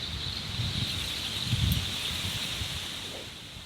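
Steady wind hiss with leaves rustling continuously in thick woods on public land in Iowa, a faint high insect-like whine above it, and gentle low gusts swelling midway; no talking.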